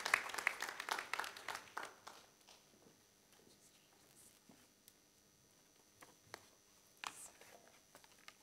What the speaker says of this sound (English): A round of applause, please, for His Excellency